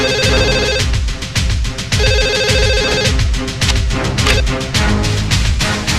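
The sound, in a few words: telephone ringing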